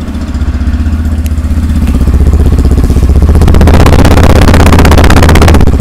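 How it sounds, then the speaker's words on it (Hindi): A 2024 Yamaha FZS V4 motorcycle engine idles with a steady low, pulsing exhaust rumble, loud and close, with a slight rise in level partway through. "थोड़ा सा इस बाइक की अगर हम एग्जॉस्ट साउंड सुनाते हैं आपको"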